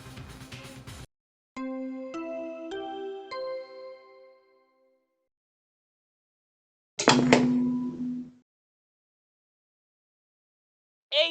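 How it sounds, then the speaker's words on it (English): Body discovery announcement chime in the Danganronpa Trigger Happy Havoc video game: a short descending run of four or five bright, ringing tonal notes, followed after a pause by a louder, brief synthesized burst and then silence. "What you just heard was the body discovery announcement."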